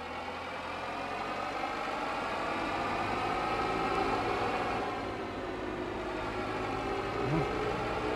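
Tractor engine running steadily in the Farming Simulator 22 game, a continuous mid-to-low drone at moderate level with a slight swell midway, no talk over it.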